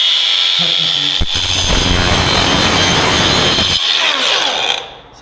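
A rubber grinder cuts out a wooden nailing strip along a concrete floor perimeter, a loud continuous high whine with gritty cutting noise, briefly breaking near the start and then winding down at the end.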